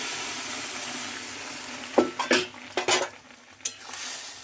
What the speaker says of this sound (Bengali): এই সময় দিয়ে দিচ্ছি আমার আলু আর কচু।